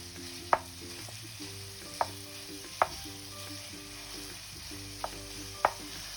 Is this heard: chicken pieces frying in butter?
yes